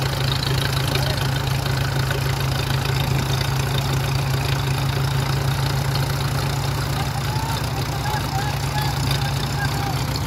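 A Mahindra 575 tractor labors up a slope in low gear, its diesel engine a steady, heavy, unbroken rumble that stays loud and close throughout.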